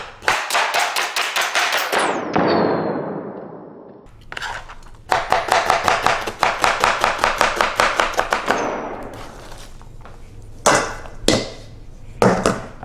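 A knife chops a purple or white onion on a board in quick, sharp, evenly spaced strikes in close bursts, with a scraping sweep between runs and a few scattered final taps.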